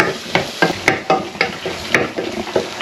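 Crushed ginger and garlic sautéing and being stirred in a pan for a Tamil chicken dish, a steady close sizzle broken by repeated scraping stir strokes, with no talking.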